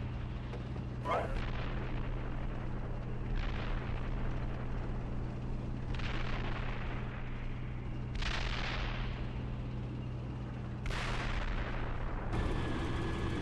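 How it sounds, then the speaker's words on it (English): Combat gunfire and artillery fire, a steady low rumble broken by several distant booms and sharp cracks spaced a few seconds apart, fairly faint throughout. "We're taking fire here."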